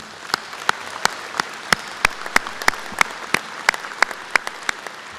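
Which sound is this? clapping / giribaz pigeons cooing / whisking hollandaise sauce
clapping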